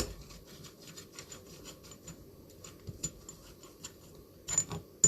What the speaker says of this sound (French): On vient les visser à la main